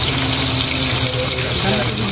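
Water gushes hard from a tap in a loud, close, unbroken rush, with voices faintly audible beneath the flow.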